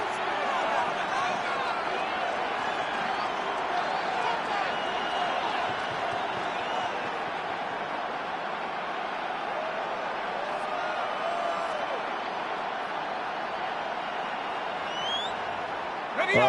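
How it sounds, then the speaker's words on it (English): A broad, steady crowd roar from a football video game fills the background continuously, a sustained wash of stadium noise with no clear breaks. "A big play here as the crowd noise rises."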